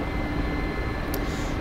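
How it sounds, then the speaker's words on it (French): Steady, broadband rotor and turbine roar of a helicopter in a flight simulator cruising level at 200 km/h, continuous and close with no talk over it. "Mon hélicoptère vole maintenant en palier à une vitesse de 200 km/h."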